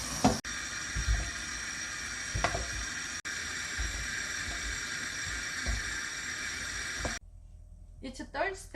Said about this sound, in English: Get meat and wash it.